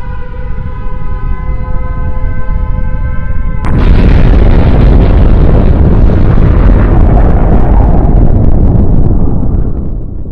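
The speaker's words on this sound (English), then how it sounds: "watch the fireworks as I explode!" A Pokémon's Explosion move in a Pokémon battle game bursts loudly after a few seconds of tonal horn-like chiming, then a dense roaring blast sustains and slowly fades.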